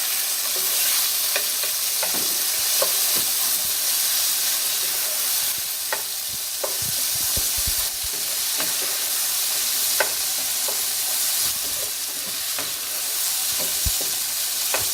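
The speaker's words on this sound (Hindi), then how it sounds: "टोमेटोज डालकर अब हम इसको जब तक फ्राई करेंगे जब तक ये टोमेटो ज़रा नरम ना हो जाए।" Chopped tomatoes frying with lightly browned onions in a pan, a constant close sizzle with scattered pops and stirring scrapes, no talking.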